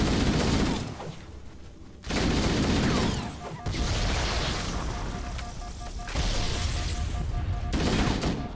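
Rapid video game gunfire with heavy bursts and booming blasts during a shooter match, loud and dense, cutting off briefly then resuming in sustained volleys.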